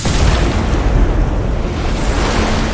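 Anime fire monster blowing apart in a dense, loud, roaring explosion, a sustained crackling rumble that fills the whole moment without a break.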